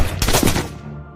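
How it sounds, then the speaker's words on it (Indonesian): A police shooting sounds as a loud close burst of rapid gunfire, several sharp cracks packed together and fading into a brief tail within about a second. "polisi menembak Iko dan kemudian membunuhnya"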